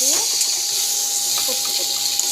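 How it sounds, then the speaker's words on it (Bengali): Water hisses and sizzles as it is poured into a pan of frying potatoes for a rohu fish curry, a steady bubbling wash with someone talking over it. "জল দিয়ে দিচ্ছি।"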